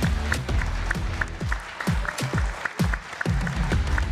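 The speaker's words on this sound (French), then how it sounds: "Je vous demande d'applaudir très fort Arnaud Boissière." An audience applauds sailor Arnaud Boissières at a live event during the Vendée Globe 2024, a loud, dense burst of clapping from a crowd, close and sustained with no talk.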